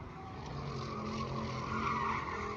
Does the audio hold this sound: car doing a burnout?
yes